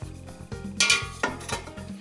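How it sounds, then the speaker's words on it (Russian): Metal kitchen tongs clink against a cooking pot while lifting hot lead fishing weights out after the water is drained, giving a few sharp metallic scrapes and knocks over a steady low hum. "Берем обычные кухонные щипчики и достаем оттуда наши грузила."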